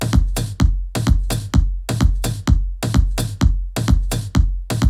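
Sliced beat samples play back in a steady 128 BPM groove, punchy drum hits with deep low thumps repeating in tight even pattern, loud and alone with no talking.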